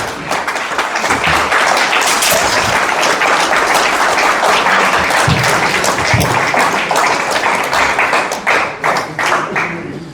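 An audience at an RCM business success seminar gives loud, sustained applause lasting about ten seconds, thick and steady before thinning out at the end.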